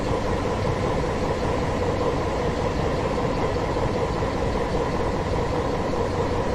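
A train in Train Simulator 2017 on the South Wales Coastal line rolls gently into a platform at about 15 mph, giving a steady, even engine and rail rumble with no talking.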